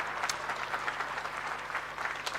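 Applause from an audience at a 30th anniversary celebration of a clinical research centre, with steady, moderately distant clapping throughout.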